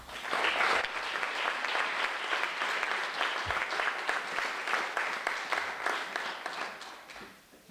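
A hall full of people applauds pupils of the Prežihov Voranc primary school at a municipal awards ceremony in Ravne na Koroškem, the clapping dense and steady for several seconds before fading at the end.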